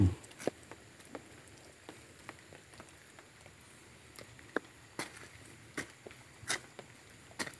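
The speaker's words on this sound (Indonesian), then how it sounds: "Ini ada hujan rintik-rintik." Light drizzle falling outdoors in an avocado orchard, a soft steady patter with scattered sharper drops tapping on surfaces, fairly faint and without voices.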